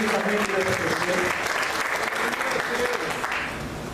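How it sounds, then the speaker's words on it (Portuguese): A church congregation applauds in a dense, steady wash of clapping that softens slightly toward the end, with voices mixed in beneath it. "Se você quer aplaudir o nome do Senhor Jesus"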